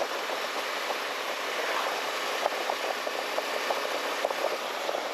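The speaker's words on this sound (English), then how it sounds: "This motor just kind of sucks." Suzuki V-Strom 1050 DE adventure motorcycle engine running at a steady, even drone with a light rattle and faint ticking, no talk over it.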